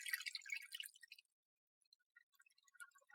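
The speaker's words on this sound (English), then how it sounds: "Drain the water" Water draining and dripping from washed rice grains for Persian herb rice, a quick burst of splashy trickling that stops, followed by a few sparse faint drips.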